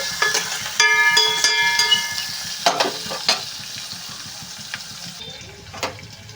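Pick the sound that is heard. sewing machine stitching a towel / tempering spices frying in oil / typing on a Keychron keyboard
tempering spices frying in oil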